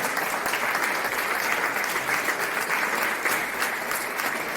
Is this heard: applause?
yes